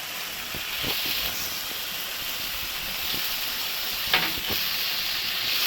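Tomato paste fries with spices in hot oil for a Bengali katla fish curry, giving a steady close hiss and sizzle with a few soft stirring scrapes and a brief clatter near the end.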